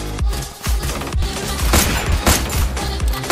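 Rapid gunfire in the mobile battle royale game Free Fire during a tournament match, with dense overlapping shots and bursts that stay loud and continuous throughout and crowd the whole short stretch.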